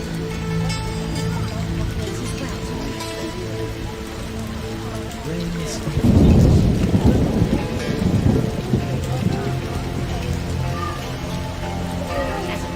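Heavy downpour in The Witcher PC game, a steady dense hiss of rain throughout, swelling into a louder rumbling burst midway that fits a thunder roll before easing back to the constant rain.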